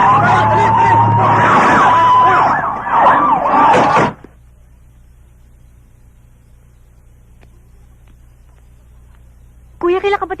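A police siren wails loudly in a rising and falling sweep, mixed with raised voices. It cuts off after about four seconds, leaving a low hum, and voices return briefly at the end.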